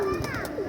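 Pigeon cooing close by on a rooftop, a soft rolling coo with tonal calls rising and falling, mixed with faint voices in the background.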